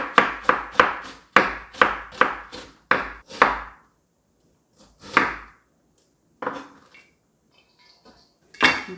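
Knife chopping onion and cabbage on a cutting board for Korean vegetable pancakes: a rapid run of about ten sharp, close chops, then a few scattered single knocks and board scrapes with pauses between.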